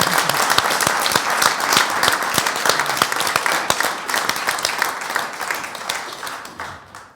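Applause for contestants on a French TV show: a studio audience claps steadily and densely for about seven seconds, the sound gradually thinning and fading toward the end.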